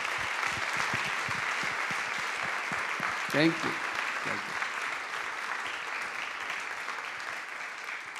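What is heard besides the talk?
audience applause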